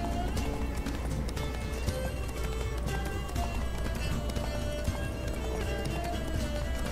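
Horse galloping in The Witcher 3, a steady clip-clop of hooves under the game's busy music and ambience, running continuously throughout with a brief whinny-like moment.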